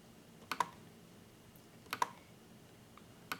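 Mouse clicks while entering drop-down menu entries in an Excel work log template: quiet, sharp double clicks in pairs, spaced about a second and a half apart over a faint background hush.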